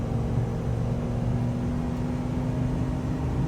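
Ford F250 pickup engine laboring steadily uphill while towing a 20,000 lb hay trailer, a constant close low drone with a firm harmonic hum and no speech.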